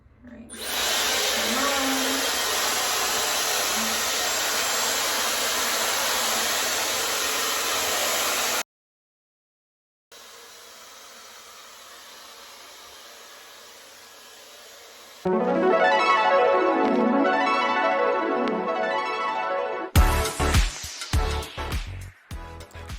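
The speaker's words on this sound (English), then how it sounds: "So I am about to diffuse my hair." A Dyson Supersonic hair dryer fitted with a diffuser drying curly hair, a loud steady close-up whoosh of air that stops for a moment and returns quieter, then rises again through several airflow and heat settings.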